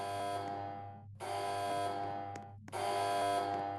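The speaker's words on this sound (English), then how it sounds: "Now, just to set the mood before we turn on the primary fusion coil, I'll demonstrate the alarms." Electronic alarm buzzers sound before activating a primary fusion coil, playing three loud sustained harsh tones in sequence, each cut off by a brief silent gap, close and alone with no talk.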